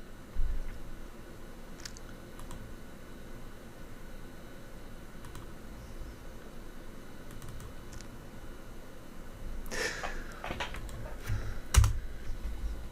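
Keys clatter steadily on a computer keyboard while a Python program for a Raspberry Pi is written, soft continuous tapping at close range with a few louder clicks near the end and no talking.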